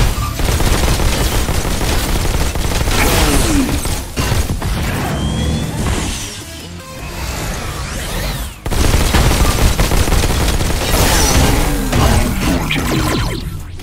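Sustained, dense gunfire rattles nearly nonstop as a player shoots a large robot's weak spots in the VR game Robo Recall, with crashing impacts and a brief lull midway before heavy firing resumes.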